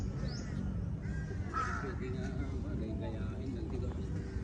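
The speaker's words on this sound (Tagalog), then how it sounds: "Daming mga ibon." Crows cawing in open air among other birds at ICONSIAM in Thailand, several harsh calls scattered over a steady background hum, with people talking throughout.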